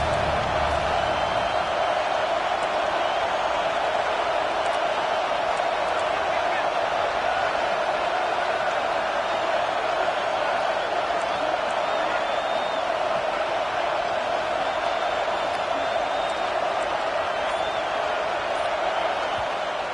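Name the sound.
stadium crowd cheering for the defense at a USC football game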